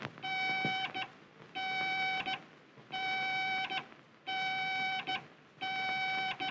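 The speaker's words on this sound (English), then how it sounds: "If I go to the right, I hear a series of dash dots." A 1930s airliner radio navigation beacon heard in a pilot's earphone when right of course: a repeating dash-dot pattern of electronic tones, a long beep followed by a short one, cycling steadily with no other sound.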